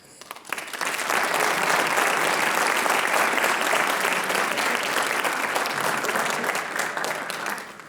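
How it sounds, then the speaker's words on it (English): An audience at a student writers expo bursts into loud, sustained applause for the student readers. The clapping is close and dense, holding steady for about seven seconds before easing off, with no talk over it. "let's give another round of applause to our readers"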